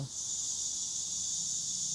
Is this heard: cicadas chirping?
yes